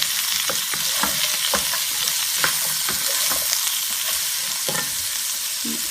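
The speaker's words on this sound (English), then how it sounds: "while that's stir frying" Beef and vegetables, including onions, stir-fry in a pan on the highest heat for orange beef, giving a loud, steady sizzle broken by frequent rhythmic clicks and scrapes of stirring throughout.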